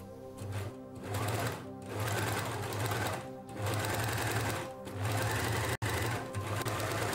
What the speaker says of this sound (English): This edge of strip must be overcast with an overlock.